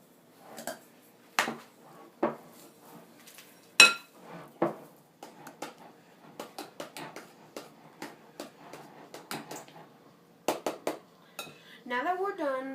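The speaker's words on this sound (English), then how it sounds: "Now we're going to mix it up." Pastry filling with lemon zest is stirred in a bowl: a utensil clinks and taps against the bowl in scattered, irregular strikes, some louder than others, with a brief voice at the very end.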